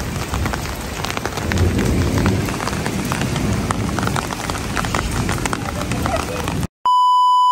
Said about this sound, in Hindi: बड़ी ठंडी बारिश हो रही है